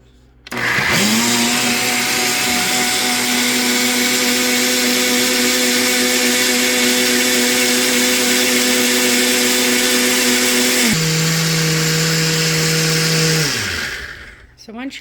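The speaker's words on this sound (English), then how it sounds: "So we're gonna just go ahead and start the blender." A blender whirs loudly and steadily for several seconds while whipping goat milk cream for butter, its motor pitch dropping partway through before spinning down and stopping.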